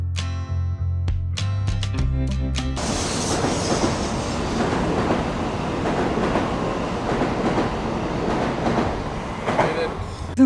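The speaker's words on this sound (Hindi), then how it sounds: "We are now deboarding our train." Train at a station in Kyoto, Japan, as passengers get off: a brief chime opens, then rolling rail noise and clatter fill the rest, moderately loud, with no clear speech.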